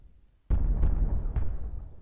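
Artillery booms in the Civil War strategy game Grand Tactician: one sharp, loud blast after a quiet moment, quickly followed by two more distant thuds in close succession, with no talk over it.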